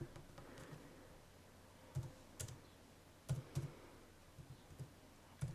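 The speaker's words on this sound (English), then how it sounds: "And I'm going to type the code in." Scattered keystrokes on a computer keyboard while booking payments in charity accounting software, a few isolated taps then small clusters of clicks, close but faint over a low steady room hum.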